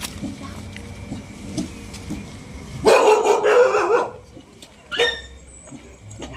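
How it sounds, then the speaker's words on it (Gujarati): A dog barks in a short loud burst midway, then gives a briefer yelp or bark afterward, set against low background noise in a village comedy scene. "કૂતરો છે"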